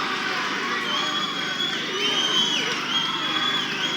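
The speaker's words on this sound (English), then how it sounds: "And the crowd getting behind Watson." A boxing crowd cheers and shouts loudly and continuously during a fight, a dense roar of voices with rising whoops and no single voice standing out.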